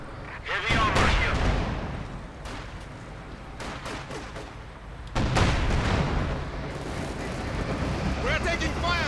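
Anti-tank gun and artillery fire crack and boom in a Company of Heroes 2 battle, a few heavy bursts and sharp shots over a rumbling din, with a voice speaking beneath the combat.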